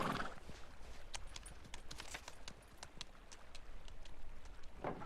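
Horse hooves clip-clop at a steady walking pace through heavy snow, a series of soft, fairly faint thuds over a quiet outdoor background, with a brief murmur at the start and end.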